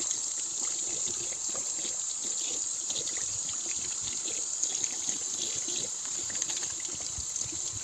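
A faucet runs in a steady, even stream while soapy hands are washed beneath it. The water hisses and trickles continuously at close range, fairly soft, with no talking.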